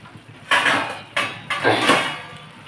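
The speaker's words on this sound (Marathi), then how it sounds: "याला प्लेट ठेवून झाकून ठेवते मी" A plate is set over a pan of biryani in three quick clattering contacts, close ceramic-on-metal clinks with short ringing tails and no voices.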